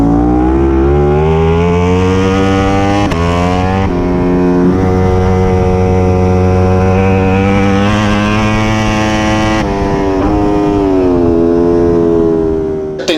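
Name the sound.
racing motorcycles, Ducati Street Fighter V4 SP, Cremona circuit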